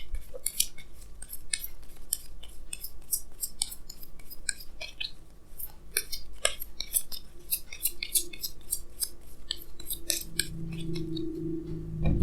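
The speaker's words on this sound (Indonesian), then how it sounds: "Jadi sini saya akan tarik lagi 2 kartu tambahan" Tarot cards drawn from a deck and handled on a table for an Aries reading, giving a steady run of crisp short taps, flicks and shuffling clicks at close range, alone without talk, with a low hum underneath.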